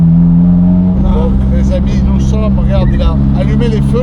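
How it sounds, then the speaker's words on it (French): A Ferrari F40 fitted with Pagid competition brake pads slows with loud engine rumble and harsh brake noise close by, the sound continuous and dense throughout. "regarde le bruit des freins et tout, c'est vraiment authentique"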